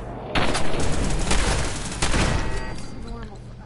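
Laser turrets firing in Fallout 4 Nuka World: rapid bursts of loud, close gunfire-like zaps in quick succession, tapering off near the end.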